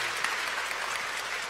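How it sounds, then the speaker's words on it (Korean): A hall audience at a memorial concert for the late Father Lee Tae-seok gives a brief burst of applause. The clapping is dense, steady and close, with no talking over it. "박수 좀 부탁드리겠습니다"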